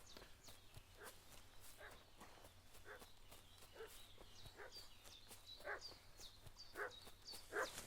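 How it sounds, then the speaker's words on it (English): A dog barks repeatedly inside the video game Kingdom Come Deliverance 2: a steady run of sharp barks at moderate distance, mixed with footsteps and hoof-like clops, with no one speaking. "What's that dog making such a fuss about?"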